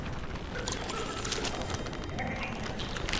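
A crow calls in the papercraft video game Tearaway Unfolded: a few bird cries over a busy, constant bed of game sound.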